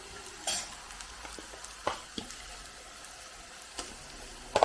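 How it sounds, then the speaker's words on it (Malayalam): Ginger garlic paste frying with shallots in a pan, a soft steady sizzle with occasional sharp clinks and scrapes of a spoon stirring against the pan. "ഇഞ്ചി വെളുത്തുള്ളി പേസ്റ്റ് നമ്മൾ ഫ്രൈ ഇതിനകത്ത് ഇട്ടിട്ടുണ്ട്"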